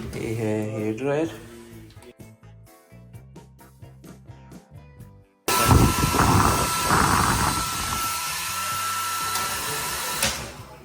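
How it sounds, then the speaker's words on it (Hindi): A hair dryer starts up with a loud, steady whooshing roar after a quieter stretch of talk, and keeps blowing continuously to the end. "ये है हेयर ड्रायर।"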